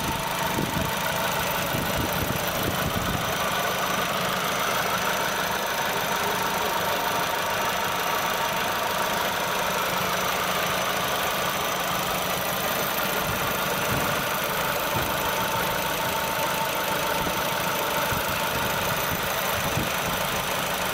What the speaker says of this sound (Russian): Работает двигатель на холостом ходу.